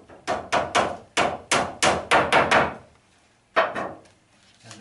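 Hammer tacking roofing felt onto a timber batten during a tile vent installation, with eight sharp, close blows in quick rhythmic succession, a short pause, then one final strike.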